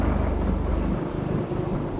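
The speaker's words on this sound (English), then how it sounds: "Within minutes, a storm can strike." A thunderstorm breaks over the Glockner massif in the high Alps, a deep, rolling rumble of thunder swelling loudly and steadily for a couple of seconds with no voices.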